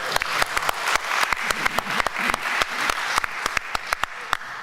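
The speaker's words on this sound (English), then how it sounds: "I think that question deserves a round of applause." An audience at an anti-war and environmental activism event applauds steadily, with many distinct claps rising into sustained, fairly loud clapping and no speech over it.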